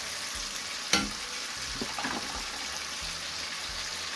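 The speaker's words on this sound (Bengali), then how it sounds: "এখানে পেঁয়াজ আর রসুন দিলাম" Onion and garlic fry in hot oil, a close, steady sizzle with a sharp crackle burst near the start and soft stirring scrapes afterward, no voices.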